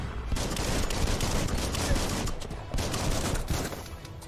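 Loud, sustained gunfire from the Biomutant video game, dense rapid bursts rattling almost without a break, with a short dip near the middle before the shooting resumes.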